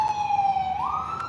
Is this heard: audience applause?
no